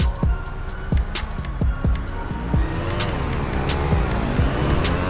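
A car in the GTA 5 video game drives hard: the engine revs and drops through repeated gear shifts in a loud, continuous roar, with a steady hiss of road and tire noise.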